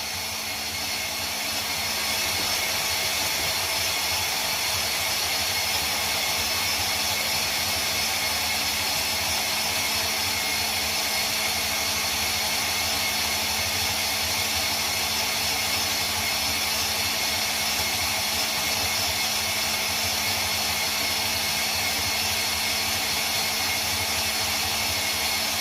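A vintage KitchenAid coffee grinder attachment runs continuously on its final fine pass, giving a steady, even motor whir and grinding hiss that stays close and constant throughout.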